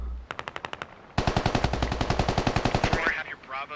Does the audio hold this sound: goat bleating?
no